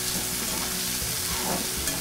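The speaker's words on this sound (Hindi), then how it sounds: "प्याज के साथ ही हम मटर डाल देते हैं ताकि वो भी अच्छी तरह पक जाए। इसको हम लगातार चलाते रहेंगे" Onions and peas fry in a pan for poha while being stirred nonstop, giving a dense, close sizzle with scraping spoon movements and no talking.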